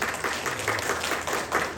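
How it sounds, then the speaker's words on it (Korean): Audience at a redevelopment project briefing session applauds with a moderate, steady patter of many hands clapping, fairly soft and continuous throughout. "큰 박수로 모셔보도록 하겠습니다."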